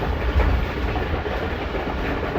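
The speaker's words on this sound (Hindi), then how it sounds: "ट्रेन का सफ़र कर रहे हैं मेरे साथ।" Continuous rumble and rattle of a Pakistan Express passenger train in motion, heard from inside a carriage on the way to Fort Rohtas, with steady clickety-clack of the wheels and no talking.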